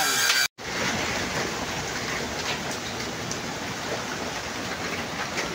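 Heavy rain pours down on a construction site, a dense, loud, steady hiss of drops on surfaces after a brief cut at the start.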